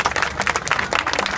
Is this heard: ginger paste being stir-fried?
no